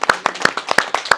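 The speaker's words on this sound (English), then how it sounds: "I'd ask that you give yourselves a round of applause right now." An audience at a city mayor's small business event claps, a modest scatter of distinct, sharp hand claps in an uneven rhythm, close and fairly loud.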